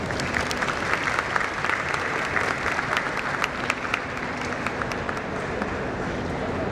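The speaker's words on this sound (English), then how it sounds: "A round of applause for ChemTECH." An audience at a ChemTECH student outreach inaugural ceremony bursts into sustained applause, a dense steady wash of many hands clapping that holds at an even level for several seconds.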